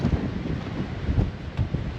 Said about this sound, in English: It might be windy out here